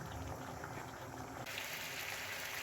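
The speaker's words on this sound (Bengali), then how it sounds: "গরম জল দিয়ে দেবো" Hot water poured into a pot of mutton curry simmered with whole black peppercorns and whole garam masala, a steady close hiss of liquid pouring and bubbling that brightens halfway through, with no voices.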